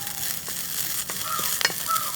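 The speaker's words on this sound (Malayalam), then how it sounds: "ഇതിനെല്ലാം കൂടി ഒന്ന് വറുത്തെടുക്കുക" Grated coconut and curry leaves sizzle in a hot pan for cabbage thoran, with scraping stirring strokes heard up close against a continuous frying hiss.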